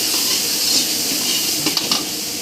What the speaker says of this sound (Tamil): முந்நூறு கிராம் சிக்கனை போட்டு நல்லா வதக்கணும்